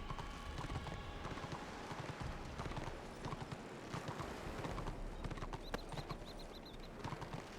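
A horse ridden in Warhammer Online clip-clops steadily, its quick, regular hoofbeats running without a break over a dense, busy game soundscape, with a few faint high chirps near the end.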